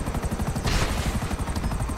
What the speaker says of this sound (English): Oh, the helicopters?